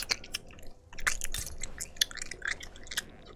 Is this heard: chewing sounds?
yes